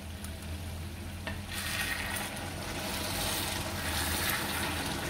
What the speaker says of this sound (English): Now when I stir, there is this frying sound.